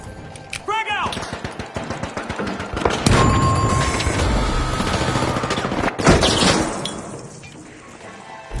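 Chaotic combat in the arena shooter The Finals, with rapid gunfire and a heavy blast from a frag grenade partway through, a dense loud mix of shots and impacts, under an announcer's voice.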